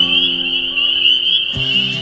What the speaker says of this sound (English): There's probably no other sound that so much signifies the fact that spring is truly here than the singing of the frogs.